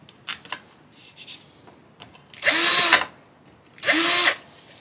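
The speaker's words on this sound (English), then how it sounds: "I'm going to take that same pilot bit that I used, and I'm going to center this up so it doesn't move" A power drill fitted with a pilot bit spins in two loud, close bursts of about half a second and a second each, after some light clicks and handling noises.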